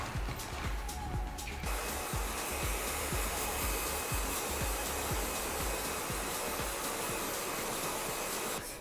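A hair dryer blowing steadily on hair during a salon haircut, a loud continuous close whoosh with rhythmic low thumps from the hair and brush moving under the airflow.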